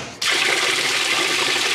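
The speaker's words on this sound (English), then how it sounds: "if you go ahead and kick the water on" Water rushes into a washing machine set to a cold rinse, starting abruptly after a brief quiet moment and then pouring steadily and loudly.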